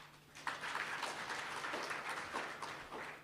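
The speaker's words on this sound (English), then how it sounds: "give yourself a round of applause for engaging with the process" An audience at a community policing forum indaba claps together in a sustained round of applause, moderately distant and even throughout, with no speech over it.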